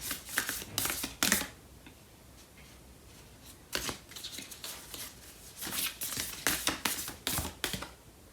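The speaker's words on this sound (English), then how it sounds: "So I'm gonna pull out a card for this person." Tarot cards shuffled and pulled from the deck: bursts of crisp riffling and slapping come in several clusters with quieter gaps between, close up and with no talking.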